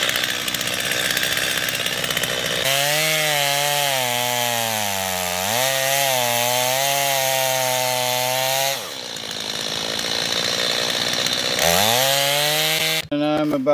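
A chainsaw making the back cut to fell a tree, its engine droning loud and close at high revs, dipping and surging as the chain bites, briefly dropping to idle before revving hard into the wood again.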